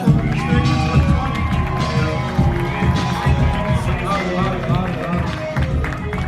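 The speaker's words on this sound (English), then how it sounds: "One more round of applause, please." An audience at a Mister Asia pageant claps and cheers continuously, a loud, dense wash of applause and shouts with voices mixed in throughout.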